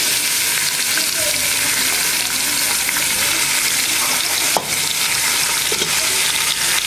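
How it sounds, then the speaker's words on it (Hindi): Bone-in beef sizzles and fries in hot oil over a high flame, a dense continuous crackle with an occasional sharp pop, close and steady throughout. "थोड़ा तेज चूल्हे पे इसको हम भूनेंगे गोश्त को, उस वक्त तक जब तक इसका गोश्त का रंग थोड़ा सा बदल जाए"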